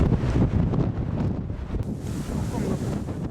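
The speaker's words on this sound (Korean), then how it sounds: "오후가 돼서도 잦아들 줄 모르는 거센 바람" A strong sea wind buffets the microphone on a small fishing island, making a loud, rumbling roar throughout. Surf may be mixed in underneath.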